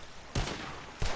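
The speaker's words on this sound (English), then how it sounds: "Whoever shoots the most bottles wins" Two sharp gunshots fired at bottles in a video game shooting contest, each a loud broadband crack about half a second apart, with a low rumble between them.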